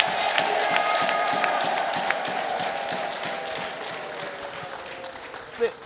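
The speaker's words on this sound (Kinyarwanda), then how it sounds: "Wayikomera amashyi n'impundu nyinshi" A church congregation bursts into applause and ululation, dense clapping with high trilling cries layered over it, loud and sustained throughout, with voices mixed into the crowd noise.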